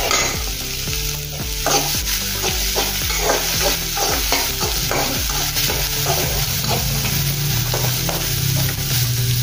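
Chopped onion and finely cut green chili sizzle steadily in hot oil, with a spoon scraping and stirring the pan in repeated strokes throughout, close and clear with no talking.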